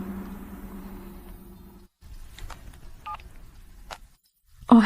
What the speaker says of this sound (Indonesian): Aku telepon dia.